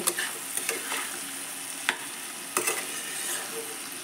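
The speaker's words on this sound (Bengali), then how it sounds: "আর দেব ভেজে রাখা মাংসগুলো, দিয়ে একসঙ্গে ভালো করে মিশিয়ে নেব।" Fried chicken pieces for homemade chilli chicken stirred through sauce in a pan, with a steady close sizzle and sharp scraping spatula strokes at irregular intervals, no voices.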